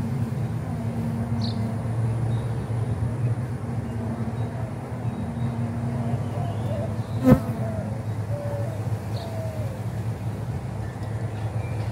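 Honey bees buzz steadily around an open hive during an inspection, a dense, close drone with individual bees whining past, and a brief sharp knock partway through.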